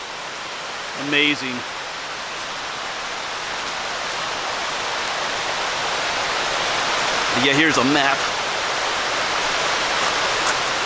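Glade Creek flows as a steady broadband rush of water that fills the scene at an even level, while someone speaks briefly twice over it.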